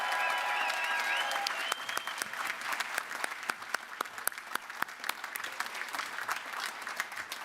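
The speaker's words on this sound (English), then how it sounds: "a huge round of applause for our graduates so far" Applause for graduates at a University of West London graduation ceremony, a sustained crowd of many hands clapping in a hall, dense and steady, with a faint voice fading at the start.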